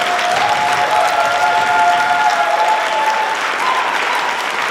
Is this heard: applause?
yes